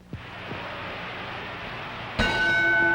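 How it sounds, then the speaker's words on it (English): A boxing ring bell clangs sharply near the end, signalling the close of round two in a championship bout, ringing out over steady crowd and broadcast noise. "holds a slight edge over Jersey Joe Walcott as he answers the bell for round three of a scheduled 15-round championship bout"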